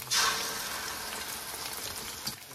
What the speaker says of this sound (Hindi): इसको मैं टर्न करता हूँ दूसरे साइड से फ्राई करते